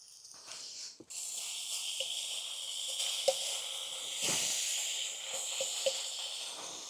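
Three rashers of bacon sizzle in a pan: a soft clunk opens, then a steady hiss settles in, dotted with occasional sharp pops and crackles, with no voices.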